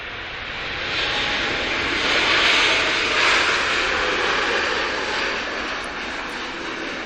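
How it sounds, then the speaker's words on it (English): Airbus A321neo jet airliner at Manchester Airport, a loud continuous roar that swells and slowly fades as it passes, with no talk. "A321neo from Toronto."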